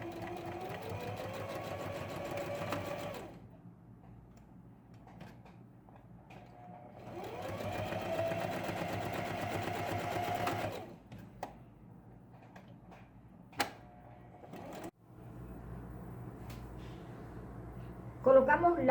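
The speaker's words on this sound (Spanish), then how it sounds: "Vamos a pasar costura y pasamos también o realizamos también un zigzag." Domestic sewing machine stitching the shoulder seams and a zigzag edge on a baby romper: two bursts of steady whirring stitching, each lasting several seconds, separated by quiet gaps with small handling clicks and a soft voice in the background.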